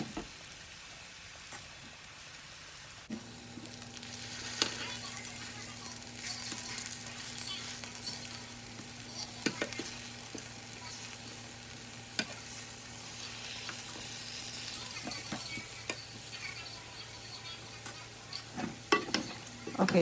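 Slices fry quietly in a pan with a soft sizzle and scattered crackles, then brief scraping and clatter as they are flipped over. A low steady hum sits underneath and no one speaks.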